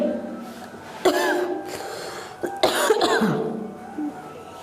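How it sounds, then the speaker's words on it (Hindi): A teacher's hoarse, harsh coughs come in several bursts close to the mic, with raspy throat-clearing between them and a short gasp at the end. No one speaks. "खांसी हो गया।"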